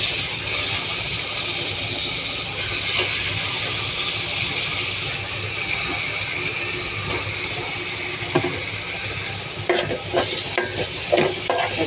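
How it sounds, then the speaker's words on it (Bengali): Small shrimp sizzle steadily in a hot pan, a continuous loud frying hiss with occasional stirring clatter and sharper pops near the end, no voices present. "এই যে চিংড়ি মাছ সেগুলো দিয়ে দিচ্ছি।"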